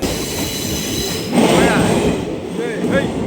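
A train runs on the Kollam–Tenkasi railway line, with a steady loud rumble of wheels on track and high squeals of wheels around curves, heard from on board.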